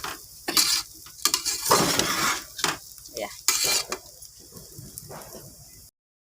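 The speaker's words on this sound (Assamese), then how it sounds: "মোৰ পোলাওটো ভজা হৈ আহিছে" Vegetable pulao frying in a pan, loud close sizzling broken by repeated scraping stirs in uneven bursts before cutting off abruptly.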